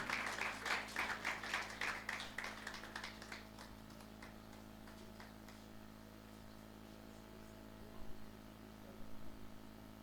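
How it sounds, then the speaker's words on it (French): Applause from a school audience as a person comes forward, a dense round of clapping in the first few seconds that fades into room noise, with a brief scatter of claps near the end. "Acclamez s'il vous plaît, acclamez pour lui."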